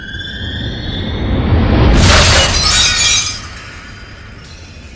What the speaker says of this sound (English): crashes right through it, causing a fiery explosion.